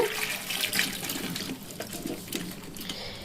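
Water runs and splashes steadily as soaked food is strained in a home kitchen, a continuous close trickle with no voices.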